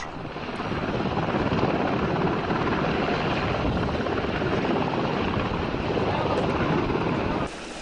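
A military helicopter flies overhead, transporting troops and supplies over rugged terrain. Its steady, loud rotor roar stays dense and unbroken for several seconds before dropping off slightly at the very end.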